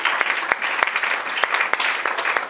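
A worship congregation claps steadily together, many hands making a dense, rhythmic applause that stays loud and close throughout.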